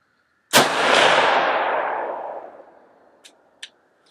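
A single loud shot from an M10X-P PRO 12.5 inch rifle cracks sharply and rolls away in a long fading echo, followed by two brief metallic clicks.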